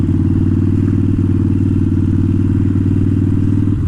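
A motorcycle is ridden at a steady pace, its engine a loud, constant low rumble with a pulsing beat and some clatter, close and uninterrupted.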